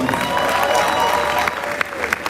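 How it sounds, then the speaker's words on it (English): An audience at a creators summit applauds a musician, with steady clapping and a few cheers mixed with a sustained tone and some background voices. "Can we all give him a round of applause?"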